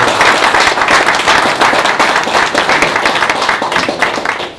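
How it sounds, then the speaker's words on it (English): Loud, close audience applause for volunteers and sponsors at a golf tournament press conference, a thick continuous burst of many clapping hands that holds strong and eases off at the very end. "So a big round of applause for our volunteers"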